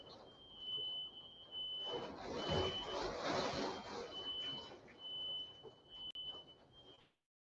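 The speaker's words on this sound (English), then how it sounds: "my damn smoke alarm going off" A smoke alarm sounds a high, steady electronic beep repeatedly through the clip, partly masked by a broad rushing noise, before cutting off near the end.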